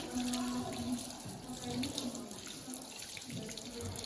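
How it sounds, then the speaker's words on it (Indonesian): Hands rinsed under running tap water, a steady quiet stream splashing at a sink for the whole stretch, with faint speech in the background. "Bilas dengan air bersih dan mengalir."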